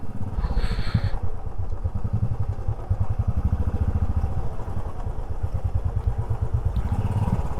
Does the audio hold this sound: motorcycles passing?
yes